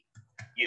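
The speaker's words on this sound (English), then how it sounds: "as soon as I start typing on the Braille keyboard, it turns computer input mode off" Three quick soft clicks come from keys pressed on a BrailleSense 6 Braille keyboard, close and quiet in near silence.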